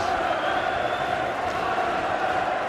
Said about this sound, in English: that's that crowd